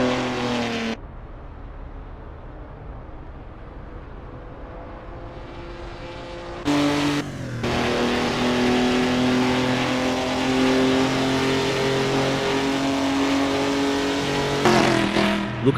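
Historic racing cars at the 1966 Monza full course in Assetto Corsa, engines droning and revving loudly and steadily with tonal harmonics, one car roaring past closer around seven seconds and another near the end.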